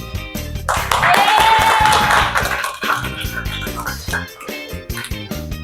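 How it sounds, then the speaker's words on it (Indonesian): Audience applause at a quiz-style fun game event held by Bawaslu Kudus: a loud burst of clapping lasting about two seconds, then fading into scattered voices and chatter. "aplaus"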